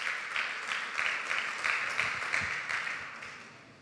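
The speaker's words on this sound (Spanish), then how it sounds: "Pues demos un fuerte aplauso de celebración al Señor." A church congregation applauding in celebration, a dense steady clapping that is moderately loud and fades toward the end.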